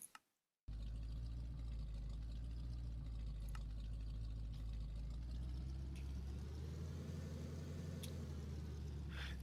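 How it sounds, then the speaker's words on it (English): A stock inline-six overhead-valve car engine idles in a steady, even drone with a faint throaty edge, running continuously after a brief quiet start. "here is the standard i6, so your normal overhead valve sort of engine"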